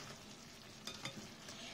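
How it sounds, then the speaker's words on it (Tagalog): Ginataang pork with taro and egg is stirred in a pot, a soft continuous scraping and bubbling with a couple of brief louder clinks near the middle, steady and fairly quiet throughout. "Ating halu-haluin."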